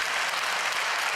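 Church congregation breaking into brief applause during a sermon, a dense wash of clapping filling the space, steady and moderately loud with no voice over it.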